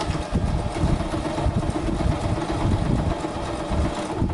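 Sewing machine stitching a nose wire into a pleated fabric face mask with a filter pocket, running steadily and fairly loudly with a dense mechanical whir throughout, no talking.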